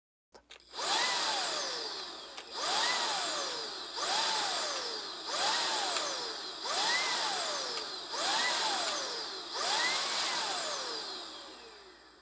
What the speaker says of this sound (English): the blower doesn't start immediately when activated